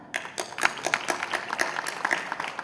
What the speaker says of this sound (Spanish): Así que recibimos con un aplauso para empezar.